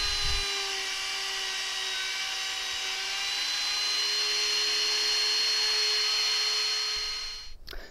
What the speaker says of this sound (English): cut this hole with my router